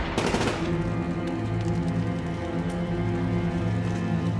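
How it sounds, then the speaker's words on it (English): A machine gun in the war film The Pianist (2002) opens with a sharp burst, and a sustained rattling, droning din follows underneath. "Is that a machine gun?"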